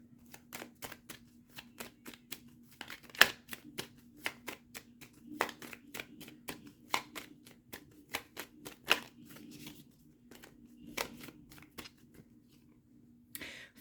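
Tarot cards handled and drawn during a reading: a long run of sharp, quiet snaps and flicks at an irregular pace over a steady low hum, with no voices.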